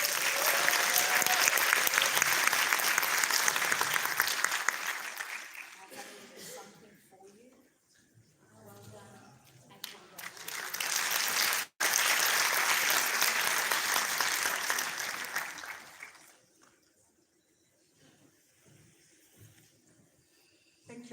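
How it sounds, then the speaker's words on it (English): Audience applause at a Uganda medical laboratory association closing ceremony rises in two long rounds of dense clapping, separated by a quieter stretch with voices, before fading into near silence and speech at the end. "Just another round of applause for Judith."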